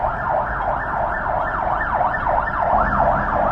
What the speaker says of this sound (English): I'm hearing a lot of sirens.